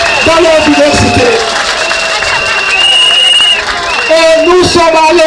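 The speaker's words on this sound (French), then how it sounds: "Je voudrais que vous puissiez applaudir tous ces conseillers qui sont ici dans leur diversité" Crowd at an outdoor campaign launch rally applauding and cheering the councillors, a loud dense wash of clapping and voices with whistles and shouts over it, steady throughout.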